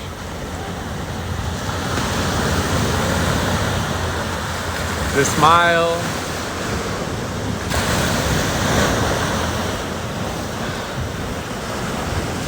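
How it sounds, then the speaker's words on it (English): Steady ocean surf rolls and washes onto a beach, a broad continuous roar mixed with wind buffeting the microphone, while someone talks over it and a brief whistling tone rises near the middle. "the waves crashing on the beach"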